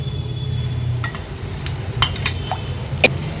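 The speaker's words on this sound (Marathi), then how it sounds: "आता हे व्यवस्थित आपल्याला मिक्स करून घ्यायचं आहे" Spices being stirred into a pot of tempering for Maharashtrian ambat dal, with a steady sizzle underneath and a few light spoon scrapes and clinks near the end, close and moderately loud.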